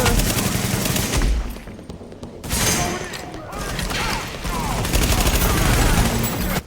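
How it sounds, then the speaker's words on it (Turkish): Shotgun blasts ring out during a firefight in Tom Clancy's The Division, with loud, dense, repeated gunfire filling the whole stretch and brief lulls between volleys. "Pompalı."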